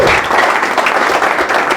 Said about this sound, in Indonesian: Berikan sorak-sorai buat Tuhan kita yang dahsyat luar biasa.